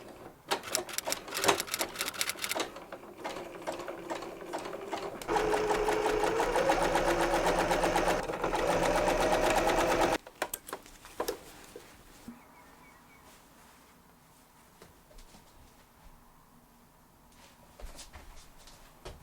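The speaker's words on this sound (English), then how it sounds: "So I'm gonna zigzag stitch them together, starting 8 centimeters up." A sewing machine zigzag-stitches a garment seam, running in a steady loud burst for about five seconds between quieter handling clicks and fabric shuffling, with a slight rise in motor pitch as it speeds along.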